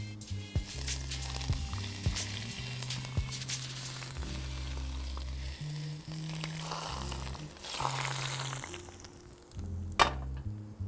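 Hot oil poured over steamed fish with ginger, a loud crackling sizzle that persists and fades, with occasional clinks and a sharp knock near the end.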